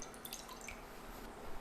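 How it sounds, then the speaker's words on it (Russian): Cold water goes into a mixing bowl for pizza dough, about 220 grams. It sounds faint and close, with light splashing and dripping trickles against a soft, steady hiss. "В миску, в которой буду замешивать тесто, я добавляю холодную воду"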